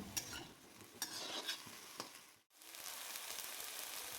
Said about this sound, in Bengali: ফুল আর পাতা একসাথে ভাজা বসিয়ে দিলাম